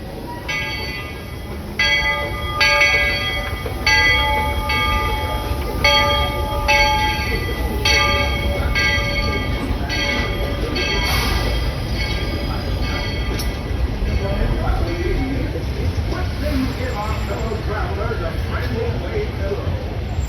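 Walt Disney World Railroad steam train pulling into Main Street Station in the Magic Kingdom, a steady rumble of wheels on track with a bell ringing repeatedly early on, close and continuous, with crowd voices and chatter around.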